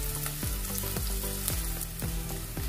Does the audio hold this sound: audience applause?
no